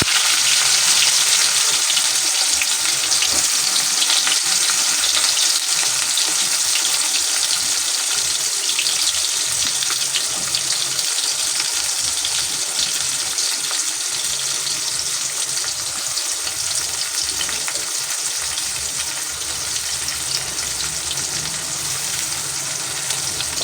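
Thinly sliced onions fry in a pan for a village-style tomato curry, giving a steady, loud sizzling hiss that runs unbroken for the whole stretch with no voices.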